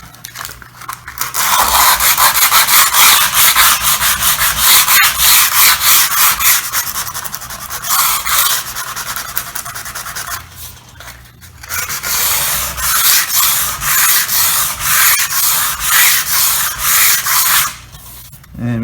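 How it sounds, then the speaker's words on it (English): Sandpaper rubbing back and forth over an oak bed frame, loud steady rasping strokes in two long sustained passes separated by a short pause, no voices. "And go back in with the sandpaper and clean it up."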